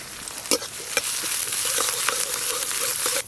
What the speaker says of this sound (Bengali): পেঁয়াজ কাঁচা লঙ্কা একটু হালকা করে ভেজে নিয়েছি, আর কালো জিরে ফোড়ন দিয়েছি